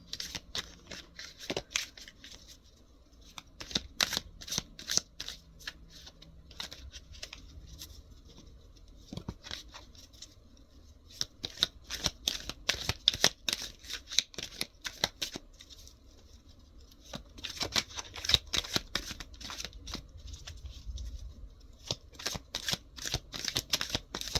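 Tarot clarifier cards being shuffled and drawn by hand, a run of crisp riffling flutters and soft slaps coming in bursts, close and fairly quiet with no talking.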